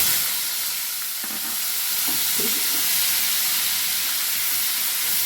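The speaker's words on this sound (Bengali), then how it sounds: "এর সাথে আমি এতে দিয়ে দিচ্ছি পেঁয়াজ বাটা।" Onion paste sizzles and hisses in hot oil with nigella seeds, a steady close frying sound with a few soft stirring scrapes and no talking.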